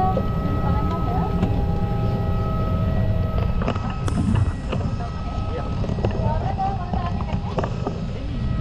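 Steady low engine roar and airflow hum inside an aircraft cabin on a flight to Palembang, with faint background chatter and occasional clicks.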